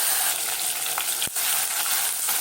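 Chopped tomato sautéing in hot oil with mustard seeds and three dried red chilies, a steady close sizzle with a brief sharp scrape of stirring midway.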